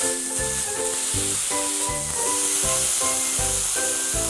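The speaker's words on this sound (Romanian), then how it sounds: "tot ce trebuie să fac este să iau această lipie, să o pun direct în tigaie cu carnea în jos" Minced-meat-topped tortilla pressed meat-side down into a very hot pan, sizzling loudly and steadily at close range with a continuous hiss throughout.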